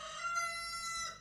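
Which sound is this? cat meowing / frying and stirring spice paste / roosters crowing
roosters crowing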